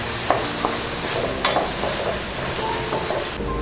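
Green peas and whole green chillies are stirred in a hot pan for vegetable pulao: a continuous oily sizzle broken by several crisp spoon knocks and scrapes against the pan, close and alone.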